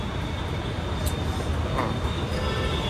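A metro train pulls into a station in Mumbai, a steady, loud rumble of wheels and carriage noise filling the platform for the whole stretch, with no one speaking.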